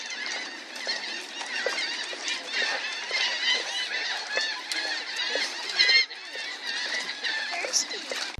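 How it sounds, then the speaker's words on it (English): An ocelot calls continuously, close and loud, with a harsh, rasping, goose-like yowling that rises and falls without pause. "She's making that noise because she's an ocelot."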